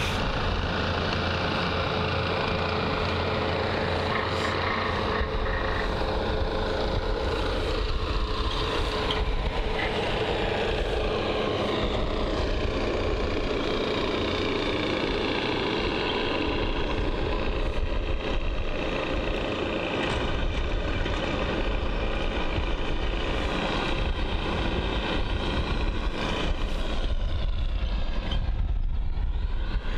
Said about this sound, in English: well, one of the ground crew vehicles here at Bristol.